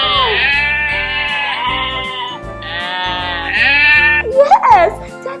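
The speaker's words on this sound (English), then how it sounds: "Yes, that's the sound of a sheep." A sheep bleats in a series of long, wavering calls, loud and close, with a short pause between them and a brief change in tone near the end.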